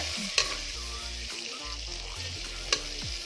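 Butter sizzling in cooking oil in a pan gives a steady, close frying hiss throughout, with a couple of brief utensil clicks and a low hum underneath.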